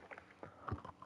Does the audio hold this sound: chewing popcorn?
yes